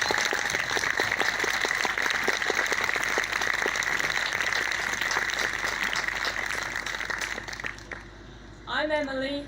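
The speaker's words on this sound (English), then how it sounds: "can we give her a huge round of applause?" Sustained audience applause at a reading event, dense and steady throughout, fading slightly before a voice begins speaking at the very end.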